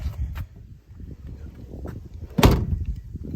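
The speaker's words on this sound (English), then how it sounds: "Door shuts good, and all the glass looks to be really good." A Studebaker fitted with a Chevy V8 has its car door shut once with a solid, sharp thud, after a couple of fainter knocks and handling sounds.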